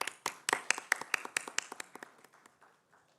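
Applause welcoming a TEDx speaker at a school event, a small group clapping in distinct, fairly sharp claps that start strong and thin out toward the end as the clapping fades.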